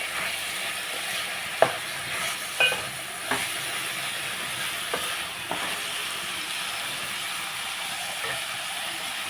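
Broad bean and tomato curry is stirred in a pan over a soft steady sizzle, with a few distinct scraping knocks of the spoon against the pan spaced through the first half, then quieter simmering.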